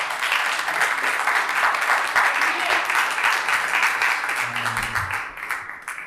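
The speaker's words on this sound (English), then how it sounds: "Please keep clapping for the DEI committee." Luncheon guests keep clapping for a DEI committee, steady dense applause from a room full of people that thins out toward the end, with a voice talking faintly over it.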